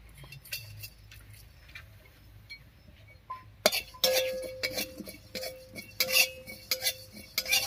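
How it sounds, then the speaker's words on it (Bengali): Whole coriander and cumin dry-roasting in a kadai: quiet scattered clinks and light metallic scrapes at first, then busier stirring with sharper clatters in the second half. "এবারে এই কড়াইয়ের মধ্যে আমি একটুখানি মশলা ভেজে নামিয়ে নিচ্ছি"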